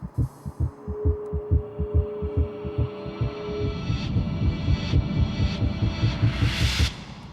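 A throbbing heartbeat opens a film sequence, with loud, close, steady double thumps over a low hum, gradually thickening into a denser, distorted pulsing wash with high ringing tones near the end.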